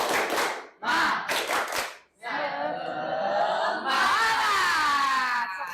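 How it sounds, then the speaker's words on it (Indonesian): Schoolchildren in a classroom perform a rhythmic chant-and-clap routine: quick bursts of claps in a patterned beat, then a loud, drawn-out group shout of young voices rising together. "Tepuk semangat"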